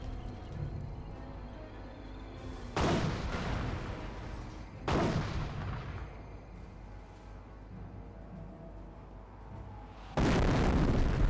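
Incendiary mortar shells land in Company of Heroes, three heavy booming blasts spaced a couple of seconds apart, each a sudden loud burst decaying into rumble over a low battlefield din.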